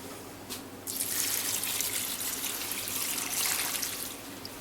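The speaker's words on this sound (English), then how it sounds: "And we're also going to add 6 cups of water." Water pours from a vessel into a pot of vegetable soup with frozen corn, a close, steady splashing trickle that starts after a brief drip and runs for several seconds, then tapers off.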